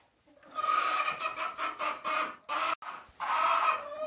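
Homestead chickens clucking close by in a continuous, slightly varied run of soft throaty calls with a brief gap, alone without talk.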